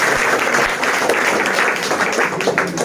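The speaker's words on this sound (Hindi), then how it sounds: "उनके लिए एक बार जोरदार तालियां हो जाए।" A classroom audience at a physics coaching centre claps loudly for a guest, a dense and steady burst of many hands that fills the room and is close and continuous for a few seconds.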